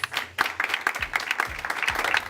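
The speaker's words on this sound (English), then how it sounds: "please give Ebony Rowe, founder Penny Jam, a round of applause" An audience claps in a steady burst of applause, moderately loud, with no voices over it.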